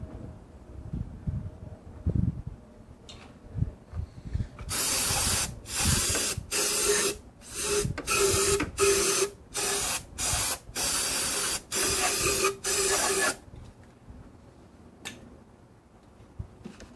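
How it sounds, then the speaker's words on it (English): Brake cleaner sprayed from an aerosol can onto a BMW oil filter housing, heard as about ten sharp, loud hissing bursts in a quick irregular rhythm, with quieter workshop clatter before and after. "we're gonna spray some brake clean on here, clean it up"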